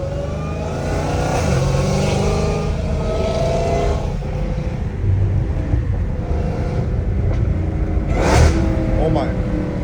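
A Dodge Hellcat Redeye fitted with a titanium catless exhaust revs loudly and close by, its rough, dense engine roar swelling in bursts over the whole stretch, with people talking and exclaiming over it.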